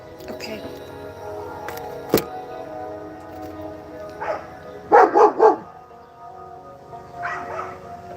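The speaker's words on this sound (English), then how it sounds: "The dogs are out here hooting and hollering." Dogs barking outdoors, a quick cluster of three loud barks in the middle followed by a softer pair later, with a sharp knock earlier and steady background noise.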